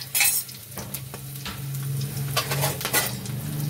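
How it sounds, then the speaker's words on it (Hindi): A spoon stirs cloves, black pepper, ginger and green chili sizzling in a pot for dal makhani, with soft scraping clinks and a low frying hiss close by. "अच्छे से चला लेंगे।"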